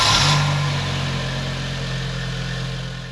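An Audi RS2 engine catches and settles into a steady idle, a close mid-pitched rumble that fades slightly over a few seconds.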